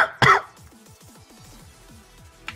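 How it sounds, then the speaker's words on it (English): A single sharp cough bursts out near the start, loud and close, followed by quiet low background sound. "I know that cough probably wasn't intended, but it worked perfectly"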